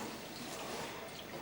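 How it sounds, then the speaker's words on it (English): Water plunged back and forth in a blocked sink squirts down the drain, a faint, continuous wet hiss and gurgle with no voices. "We then plunge the water back and forward. You can hear it squirting down the drain."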